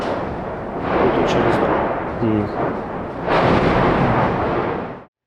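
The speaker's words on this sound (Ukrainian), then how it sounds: "Обстріли у Бахмуті майже не стихають." Booming artillery shelling in Bakhmut, Ukraine, rolls on in waves with a short lull between bursts, then cuts off abruptly; a brief voice-like sound surfaces in the middle.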